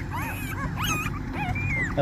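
Newborn puppies from a fresh litter whimper and yip in thin, rising and falling whines over steady low background noise, several overlapping cries close by.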